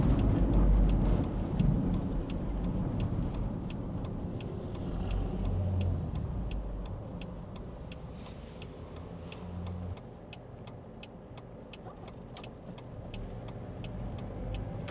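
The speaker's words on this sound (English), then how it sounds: "It's a very sensible riding van. Steers straight down the road." A 1995 Toyota Estima van cruises down the road, heard from inside as a steady road and engine hum that eases slightly over time, with faint rhythmic ticking over the drone.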